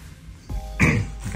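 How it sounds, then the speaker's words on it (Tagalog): A person coughs in a Venetian hotel room, one short, harsh bark followed by a fainter second cough, close to the microphone. "inuubo pa rin ako"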